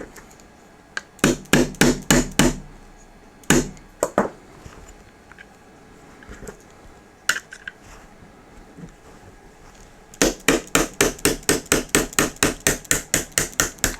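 Sharp metallic taps of a punch driving a roll pin out of a Hi Point C9 pistol with a polymer rear frame: quick bursts of repeated close strikes, a few scattered single taps, then a long steady run of evenly spaced hits.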